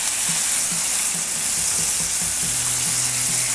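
Smash burgers sizzle loudly on a Blackstone griddle, a dense continuous frying hiss that stays close and even throughout.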